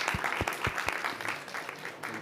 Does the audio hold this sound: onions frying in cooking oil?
no